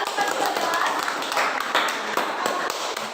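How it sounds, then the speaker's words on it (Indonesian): Children in a classroom clap for a classmate, a scattered, fairly close patter of small hands with voices chattering over it throughout. "tepuk tangan buat Bagas ya"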